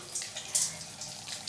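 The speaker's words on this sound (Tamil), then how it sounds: "உங்களுக்கு மேலே வந்து இப்படி தண்ணி வருங்க" Water sprays from a rotating bathroom shower head, a steady close hiss with brief splashy surges over its short span, no talk.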